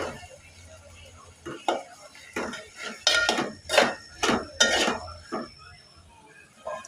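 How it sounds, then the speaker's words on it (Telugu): A pot of potato and chickpea curry being stirred, with a series of spoon scrapes and clinks against the metal, several louder strokes in the middle, close and without talk. "5 నిమిషాలు మగ్గిన తర్వాత ఒకసారి కలుపుకోవాలి"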